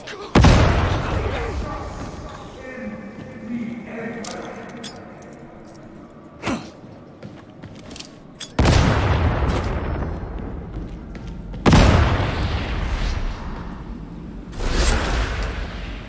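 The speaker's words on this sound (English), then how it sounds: "Grenades can be equipped and thrown." Grenade blasts in Warhammer Darktide, several loud booming explosions going off one after another amid in-game combat noise, with occasional speech over them.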